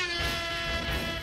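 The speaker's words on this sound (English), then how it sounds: "Just whip out your air horn." Air horn weapon in the video game Ravenfield blaring one continuous loud, brassy, harmonic-rich blast that holds steady for over a second with no talking.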